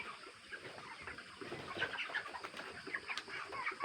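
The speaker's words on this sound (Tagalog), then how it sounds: "Malalaki na po lahat ang ating mga manok." Broiler chickens about 32 days old cluck and chirp in a farm pen, a dense, fairly quiet chorus of overlapping short calls with faint background rustling.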